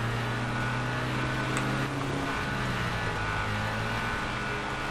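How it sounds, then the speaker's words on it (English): A rough, droning hot rod engine in GTA 5 rumbles steadily and unevenly throughout, a low continuous mechanical hum with no voices. "That thing sounds like it's about to blow up."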